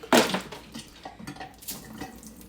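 A strawberry and basil mix is dumped out of a metal Boston shaker tin: a sharp metallic clatter at the start, followed by softer clinks and rattles, fairly quiet overall.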